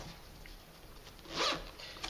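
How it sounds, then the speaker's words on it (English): A zipper on a marker organizer case is pulled with some difficulty, giving a brief close rasping zip in the middle of a quiet stretch of light handling. "it's a little difficult to get the zipper going here"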